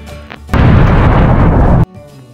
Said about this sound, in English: Junior, that was a super big explosion.